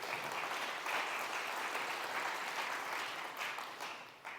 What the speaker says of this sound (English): So just a quick round of applause for Patrick for doing that.